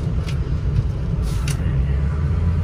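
A 2007 Ford F-250 4WD Lariat pickup with a 6.0L Powerstroke diesel brakes hard on the road, a steady low rumble of engine and road noise with a couple of brief hissy bursts.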